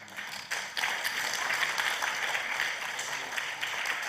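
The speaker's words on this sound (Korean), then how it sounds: "목회하고 설교 시간에 박수 받아 그건 처음이네." A church congregation breaks into applause during a sermon, a burst of many hands clapping that starts abruptly and carries on in a dense, steady wash for several seconds.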